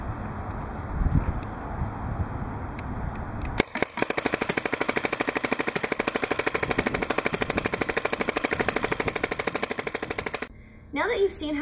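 A Tippmann X7 E-Grip paintball marker fires a long, rapid burst of evenly spaced sharp pops outdoors, loud and close for about seven seconds, after quieter rustling and background chatter.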